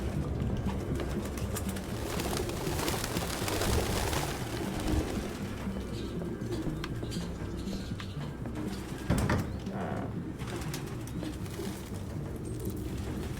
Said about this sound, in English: This is an unreasonable amount of birds.